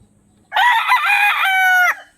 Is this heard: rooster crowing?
yes